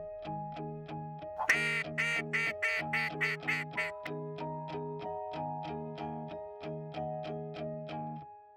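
Ducks quack in a rapid, regular series of sharp calls during a duck hunt in Oklahoma, with a brief burst of louder, raspier quacking near the start; the calls are close and clear, with no talk.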